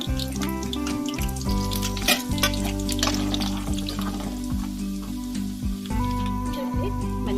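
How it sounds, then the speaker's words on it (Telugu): Dried red chillies sputter in hot oil for tempering a gongura chilli pickle, a continuous crackling sizzle running under loud background music. "నూనె కాగింది ఇప్పుడు ఎండుమిర్చి వేసుకుందాం"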